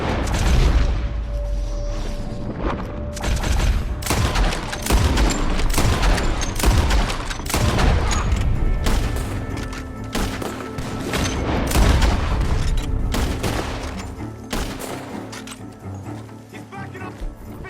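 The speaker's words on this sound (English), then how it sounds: "The gunshots are coming from that barn." Rapid bursts of gunfire and booming shots from a barn in the video game Red Dead Redemption 2 crackle throughout, dense and loud, with a dog barking at moments.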